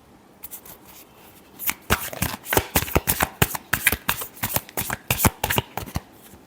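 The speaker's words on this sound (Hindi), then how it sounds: "Last shuffle." Tarot cards are shuffled close by with rapid, crisp riffling flutters and snaps that build into a quick uneven rhythm after a quiet start, with no talk.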